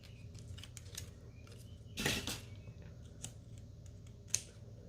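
Scissors snip through cord around two seconds in, a brief close crunchy cut over a quiet room with light handling taps and rustles.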